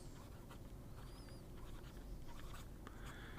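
Broad steel Jowo No. 6 fountain pen nib scratching across paper with green sheen ink, a soft continuous writing hiss with faint strokes, close and quiet, no talking.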